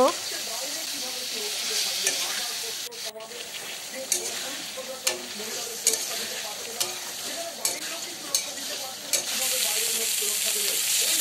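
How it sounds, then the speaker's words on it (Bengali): Fried potatoes and soybeans sautéing in spice paste over medium flame, a steady sizzle with repeated scraping stir strokes against the pan, close and continuous. "ভাজা আলু ও সয়াবিনগুলো দিয়ে মিডিয়াম ফ্লেমে 2 থেকে 3 মিনিট কষিয়ে নেব"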